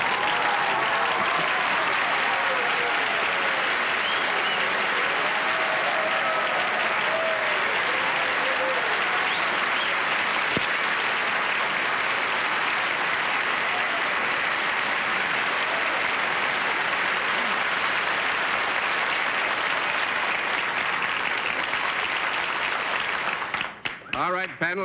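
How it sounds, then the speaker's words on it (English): Studio audience at a television panel game show erupts in loud, dense applause mixed with screaming, a continuous roar filling the room before tapering off abruptly at the end. "that applause and scream was deafening"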